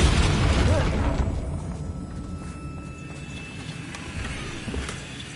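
A Confringo fire-explosion spell in Hogwarts Legacy opens with a loud, close burst that decays into a rumbling fade, with faint crackles trailing after it.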